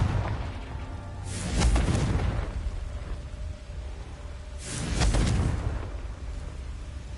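Two fiery Confringo spell blasts from Hogwarts Legacy on PlayStation go off a few seconds apart, each a broad whooshing burst with a low thump that swells and fades, with a quiet ambient bed between them.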